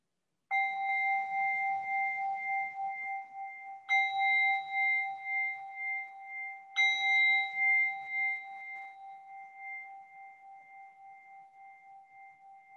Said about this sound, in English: Let's begin just by hearing the sound of the bell.